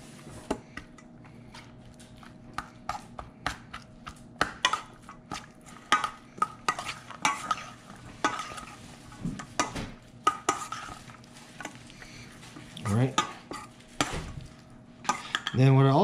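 Ahi poke tossed with limu seaweed in a bowl: scattered utensil clicks and soft wet scraping against the bowl, close and moderately loud, with a louder clatter near the end.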